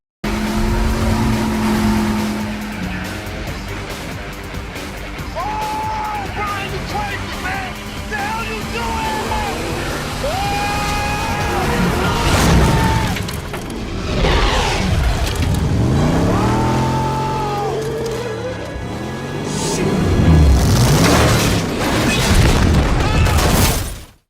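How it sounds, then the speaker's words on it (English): From a Fast and Furious movie scene, a car's engine revs and roars as it accelerates off a cliff and crashes onto a boat, with loud booms, tire squeals and impacts over a dense soundtrack and brief voices. "In this scene, you'll see a car jump off of a cliff and onto a boat."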